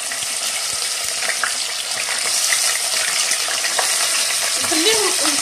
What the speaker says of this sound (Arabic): كيما راكو تشوفوا حبوباتي الدجاج تاعي تقلى